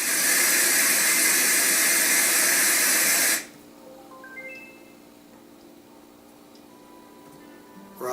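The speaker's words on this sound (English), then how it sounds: "White noise." A Letsfit white noise machine plays steady, loud white noise for about three seconds, then cuts off abruptly, leaving faint hum and quiet background with a brief click near the end.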